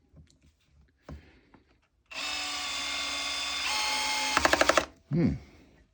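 A Bosch 12V cordless drill driver at clutch setting 5 drives a screw, whirring steadily for about three seconds before the clutch slips with a quick burst of ratcheting clicks, then a brief thud after.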